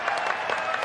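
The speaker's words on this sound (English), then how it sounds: "Everyone, can we have a round of applause for Alex's sexy V-neck?" A convention crowd at a game event claps in brief, steady applause, a dense patter of many hands heard from within the audience hall.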